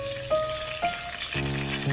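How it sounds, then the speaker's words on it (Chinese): Scallion pieces frying in hot cooking oil in a heated wok, a steady close sizzle as they are stirred with chopsticks, with some faint tonal ringing. "油热之后，把葱段加进来，用筷子搅动一下"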